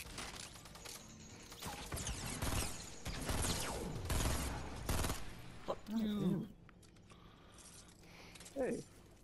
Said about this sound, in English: I'm just hearing that fucking cannon going off.